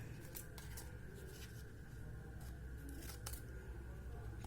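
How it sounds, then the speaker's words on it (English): Scissors cutting paper while making a paper rose: a series of soft, close snips in irregular rhythm over a steady background hum. "take your scissors and cut it like this."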